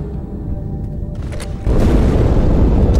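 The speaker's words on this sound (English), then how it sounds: "That explosion came from inside the Athens." A loud explosion erupts inside the ship Athens in Halo 2 Anniversary, a sudden deep rumbling boom cutting in midway after a muffled low drone and continuing as a heavy, sustained roar.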